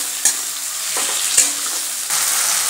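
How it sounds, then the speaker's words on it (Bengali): Chopped tomatoes and onions sautéing in a pan, a steady hiss of frying with a few brisk spatula scrapes, close up and fairly loud, no one speaking. "টমেটোটাকে ভালোভাবে পেঁয়াজের সাথে মিশিয়ে নেব, আর যতক্ষণ টমেটোটা না গলে ততক্ষণ ধরে কষিয়ে নেব"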